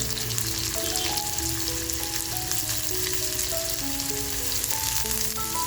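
Chopped onion and green chilli drop into hot oil with garlic, raising a loud, steady sizzle of frying that carries on unbroken, with faint stirring throughout.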